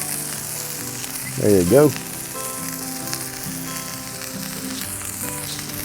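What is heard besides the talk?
burger buns toasting, sizzling on Blackstone griddle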